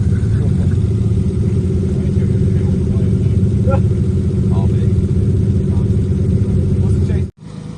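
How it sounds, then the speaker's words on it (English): A Nissan R33 Skyline idles steadily at a car show, its low engine rumble loud and close and unbroken before cutting off near the end. "Ryan's broken car again."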